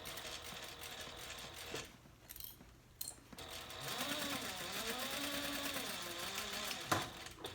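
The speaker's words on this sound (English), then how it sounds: "Okay, so we're just going to sew straight across." A domestic sewing machine stitches straight across a handbag lining in short bursts, a faint mechanical whir with rising and falling motor pitch and soft ticking, pausing briefly before running steadily again.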